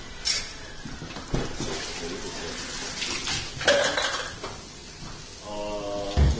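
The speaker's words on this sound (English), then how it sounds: "Watch out, guys, hot water." Hot water pours and splashes into a pot in a busy kitchen, with running-water noise and clattering metal throughout, brief clanks rising near the middle and the end.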